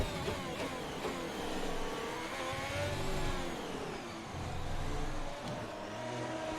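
A racing car engine in F1 2021 hums steadily at moderate loudness, its pitch shifting as it slows entering the pits at Singapore, with a synthetic, game-like tone and no voices.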